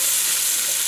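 Potato pasta with onion browning in a covered pan on high heat, a loud continuous sizzle and fry close up while the mixture is stirred, with no talking.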